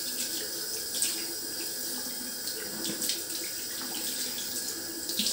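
Water runs steadily from a tap with splashing and rinsing, continuous and fairly close, with occasional brighter splashes.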